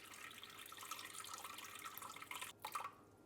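Warm water poured into a bowl of sourdough starter for croissant bread, a soft continuous trickle close by that thins out and stops near the end with a few light drips.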